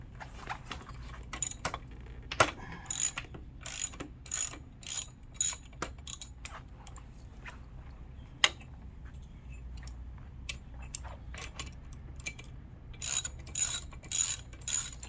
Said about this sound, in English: So we're going to loosen this up. It's a 13 millimeter.